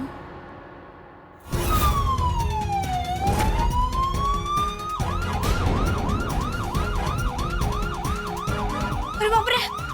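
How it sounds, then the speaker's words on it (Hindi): An ambulance siren wails loudly and close by, first with long rising and falling sweeps, then with a fast repeating yelp, over traffic noise. "अरे बाप रे, एम्बुलेंस आ गई।"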